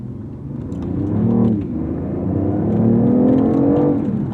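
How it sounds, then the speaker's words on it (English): A BMW i8 engine rumbles up loudly in sport mode, rising in pitch, dipping, then revving and holding a deep throaty drone close by, with no talking. "shift it into Sport, and the engine comes alive"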